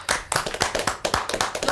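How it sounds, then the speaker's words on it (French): A small group of people clap their hands in a room, a few distinct near claps in uneven rhythm. "Je vais vous demander d'applaudir."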